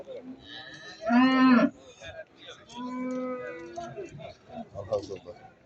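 Calves at a cattle market in Imishli moo loudly, one long close bellow followed by several softer, drawn-out lows, with background crowd noise and people talking around them.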